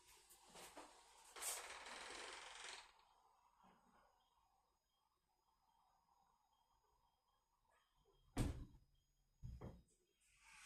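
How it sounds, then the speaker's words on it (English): A GEZE closer on a sliding door pulls it shut, with a soft rolling glide ending in a quick snap and clack as the door overcomes the latch, followed by a second lighter knock. "Just at the end, you just get a nice little bit of a snap action to overcome the latch."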